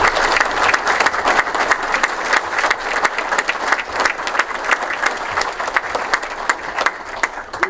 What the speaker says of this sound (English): Give them a round of applause for all the hard work they've been doing.